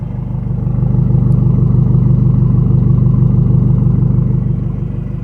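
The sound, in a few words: Ford Fiesta engine idling with newly installed exhaust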